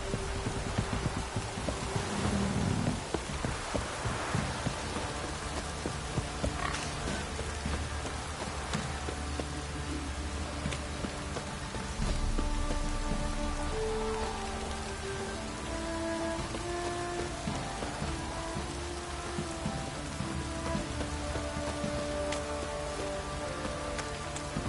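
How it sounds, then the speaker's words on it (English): Steady heavy downpour in The Witcher 3 game world, a dense continuous hiss of rain pattering on surfaces, with occasional low rumbles and faint game ambience underneath, no voices. "This downpour's a bastard it is."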